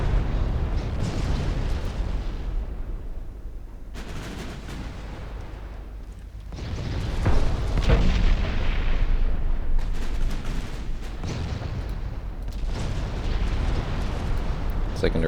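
Warship main guns and secondaries firing in the naval game Ultimate Admiral Dreadnoughts, a continuous rumbling barrage of deep booms and blasts, loud and dense throughout, with some talk underneath.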